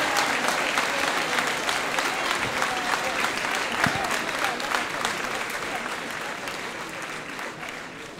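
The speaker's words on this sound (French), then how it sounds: "Elle mérite vraiment un tonnerre d'applaudissements." A crowd at a town New Year civic ceremony in Montreuil gives sustained, loud applause that slowly fades, with faint murmuring beneath the clapping.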